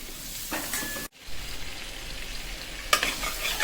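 A small piece of butter melts in a kadhai with a soft, even sizzle, interrupted by a brief dropout and a couple of louder crackling bursts, heard close with no voices.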